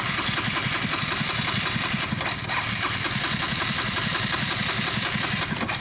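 A motorcycle engine cranking with the throttle held wide open, a loud, continuous rapid chugging that turns over steadily without catching, close and unbroken.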